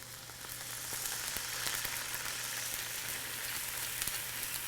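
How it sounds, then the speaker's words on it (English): Shallots sizzle and crackle steadily in a hot pan, a continuous close-up frying hiss with scattered pops and a faint background hum. "With those shallots sizzling away nicely"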